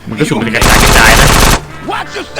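Loud, dense burst of automatic gunfire in GTA San Andreas, a rapid continuous volley lasting about a second, with game sounds and brief talk around it.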